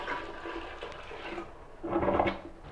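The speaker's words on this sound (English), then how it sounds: "And then that water can be dumped down the toilet." A toilet flushes water away, a steady rushing wash of water that swells louder toward the end, heard at moderate distance without talk.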